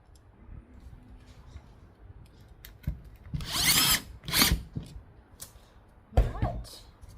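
A power drill drives 9mm screws into wood, with short whirring bursts that rise and stop, two longer runs in the middle and a quick final burst, close and fairly loud against a quiet room.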